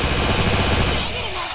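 Rapid automatic gunfire from the mobile shooter game Free Fire crackles in a loud, continuous burst that cuts off after about a second.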